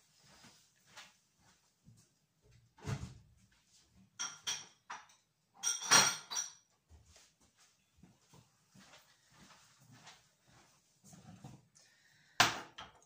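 Small dishes and bowls clink and clatter in a kitchen as one is fetched, a series of sharp, scattered knocks and rattles at close range with quiet gaps between them.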